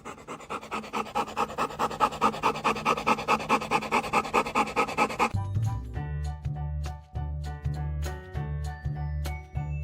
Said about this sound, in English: I've never seen a dog this excited for his tennis ball.